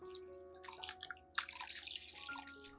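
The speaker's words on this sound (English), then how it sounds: "immerse the entire orchid in the diluted cinnamon solution." Water drips and trickles from an orchid lifted out of a diluted cinnamon solution, giving soft, close, irregular splashes and patters over a faint steady background, with no talking.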